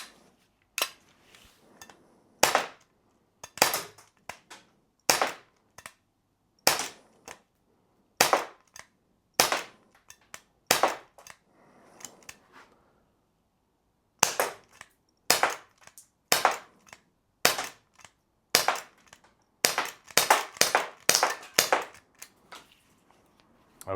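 A Glock 17 Gen 5 BB blowback airgun fires a magazine at a 10 m target, sharp snapping shots with slide clacks in irregular single shots and quick pairs, separated by short pauses, with no talking.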